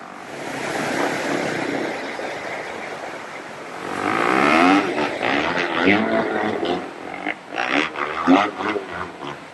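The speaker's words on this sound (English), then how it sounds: "We have some folks here on motorbikes that are doing runs across the falls." Motorbikes make runs across the shallow ledges of Toquerville Falls. A soft rush of water gives way to louder revving engines and splashing as riders cross nearby, with the engine surges rising and falling.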